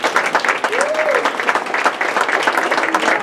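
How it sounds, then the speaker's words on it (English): Audience applause at a Cumberland County Playhouse season announcement, a sustained dense wash of many hands clapping at moderate loudness, with a voice heard briefly over it. "Give them an applause."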